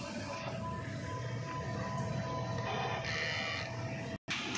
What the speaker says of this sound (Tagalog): Ganito naman po yung clean ng DTF po namin.